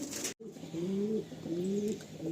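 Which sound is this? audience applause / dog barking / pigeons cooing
pigeons cooing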